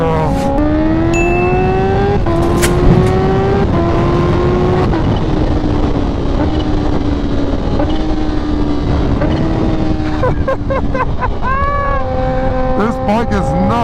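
A small Indian motorcycle is run at wide open throttle. The engine note climbs sharply in pitch, drops at each gear change, then climbs again, staying loud and close as the bike accelerates hard.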